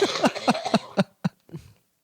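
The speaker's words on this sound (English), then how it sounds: "That cough is fine. It's the dry cough." A person gives a rapid series of dry, hacking coughs, close up, about seven short bursts that trail off into quieter ones.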